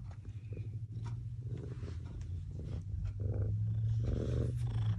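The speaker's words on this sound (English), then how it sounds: "Are you purring?" A cat purrs close up, a low continuous rumbling throb that grows slightly louder toward the end, with faint rustling over it.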